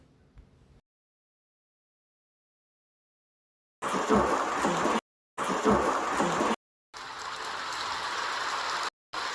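Steady broadband hiss of rain falling, arriving in three separate bursts with brief gaps of silence between them, after a quiet opening.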